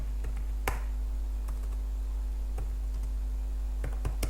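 Computer keys clack in sparse, separate taps at close range, each keystroke crisp and brief over a steady low electrical hum, with short pauses between strokes.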